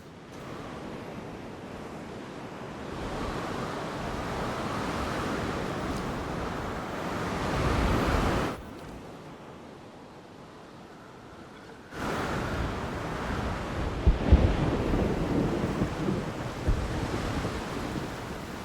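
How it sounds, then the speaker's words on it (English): Storm ambience in the Jurassic World Evolution 2 video game: a steady roar of wind, rain and surging noise that drops off abruptly midway, then swells back with sharp bursts, no voices. "I don't think I was hearing that storm sound effect before."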